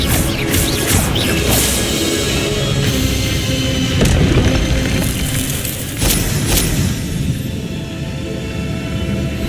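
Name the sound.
spell combat crashes in Hogwarts Legacy video game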